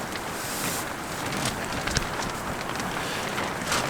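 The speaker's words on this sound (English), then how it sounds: "Just know it's really windy." Strong gusting wind at a snowy winter campsite by a lake, a steady broadband roar with surges buffeting the tent and microphone, continuous and close throughout.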